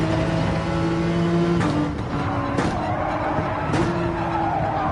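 A race car in Gran Turismo 7 at Spa, running with a failed front tire, skids with a sustained tire squeal over engine drone, then hits the wall in a sharp impact, followed by further scraping bursts.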